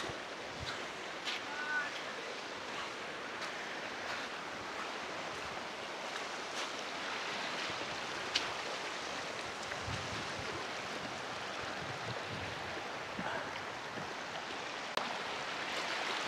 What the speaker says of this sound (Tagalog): Maganda yung daloy ng tubig dito.